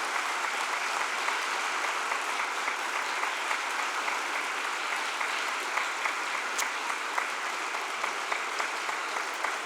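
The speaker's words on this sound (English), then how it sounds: "a warm round of applause would be welcome for everybody" An audience after a mayoral candidates' forum applauds with a dense, steady wash of clapping that holds for nearly ten seconds, filling the room evenly with no talk.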